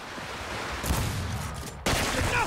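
Video game gunshots, a dense loud burst of firing filling the clip with a sharp new blast near the end, no talking.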